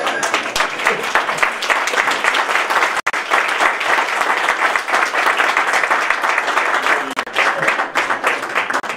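Sustained audience applause at a Danish museum association's annual meeting, closing a debate between museum directors. Dense, even clapping fills the whole stretch, with a brief break near the three-second mark and a slight dip later.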